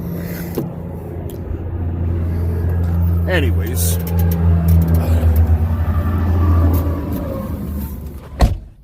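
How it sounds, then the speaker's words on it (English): Steady road traffic rumbles around a truck in Wyoming, a continuous low drone with passing vehicles and a sharp knock near the end, while someone talks over it. "So I'm sure you guys are probably hearing the traffic."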